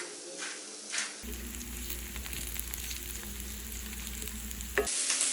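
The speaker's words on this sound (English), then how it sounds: "while my onions are cooking away" Onions fry in a pan with kosher salt, giving a steady close sizzle with faint stirring scrapes, mostly alone and loud-to-moderate, ending in a brief quieter tail.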